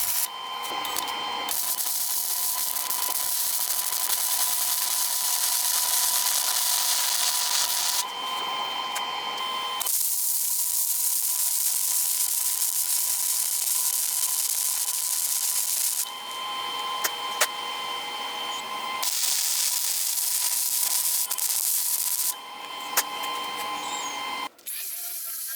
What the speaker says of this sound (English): filled it in with lines of welds at each of the seams